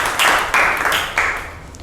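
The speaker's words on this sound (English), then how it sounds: "please clap for Tamanna" Students in a school classroom clap together for a classmate's correct answer, a brief burst of close, lively applause that swells in a couple of waves before tapering off.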